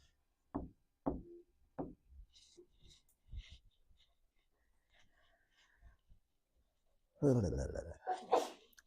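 A single loud, close sneeze bursts out near the end, following scattered quiet taps and soft sounds in a classroom-like room, with a voice speaking earlier.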